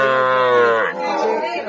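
A bull at a cattle market in Dupchanchia, Bangladesh, where bulls and heifers are sold, gives one long, loud, close moo that sinks in pitch as it ends, with faint crowd chatter behind it.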